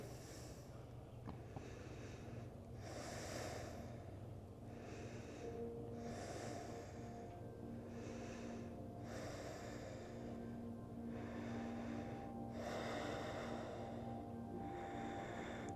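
Heavy, rhythmic breathing during a stretching exercise with a twisting head and pressing tongue, about ten strong breaths in steady succession, close and forceful.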